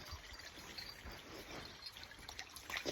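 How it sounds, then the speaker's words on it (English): A rain-swollen creek runs steadily after a rainy day, its continuous trickling and rushing water sound sitting at a faint distance and carrying on evenly throughout with no voices. "Yeah, the creek's definitely up."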